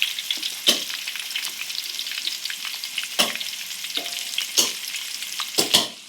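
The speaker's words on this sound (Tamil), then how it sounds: "இப்போ வந்து நம்ம வெங்காயம் போட்டுக்கலாம். ஓகே, நல்லா போட்டு நல்லா தாளிக்கணும்." Onions frying in a pan in a home kitchen, a steady crackling sizzle with several sharp scraping stirs of a spoon, close and alone without talk.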